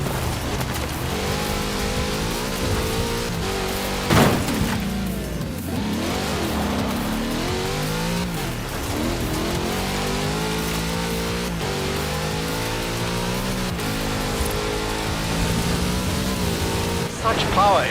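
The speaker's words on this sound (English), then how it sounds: "Such power in the big Chevrolet engine." A big Chevrolet engine in Forza Horizon 4 drones and revs through gear changes as the car drives along a road, with a sharp transient near the start, continuous and fairly loud under a talking voice.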